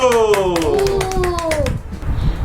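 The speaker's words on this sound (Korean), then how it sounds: "박수." A few quick hand claps at home after a child's dictation practice, short and close, mixed with a voice and an adult talking over them before it fades.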